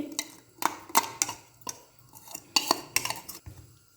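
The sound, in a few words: adding chicken to yogurt masala marinade and mixing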